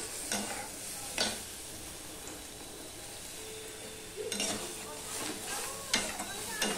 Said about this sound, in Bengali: এবারে এর মধ্যে আমি দিয়ে দিচ্ছি সামান্য জল। আমি প্রথমে একটুখানি নেড়ে নিয়ে দেখে নেব জলটা কতটা লাগবে।